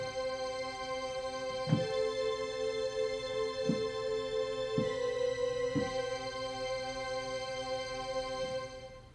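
A keyboard Believe String Machine patch run through a Strymon shimmer reverb pedal, sustaining a lush layered pad with bright shimmering upper harmonics and a few soft pulsing accents, steady and continuous with no voices.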